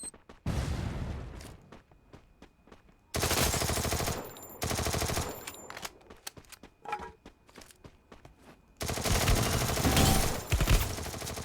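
Rapid automatic gunfire from a weapon in the Free Fire battle royale game, loud, close bursts of shots separated by short pauses, with scattered single shots and footsteps between the volleys.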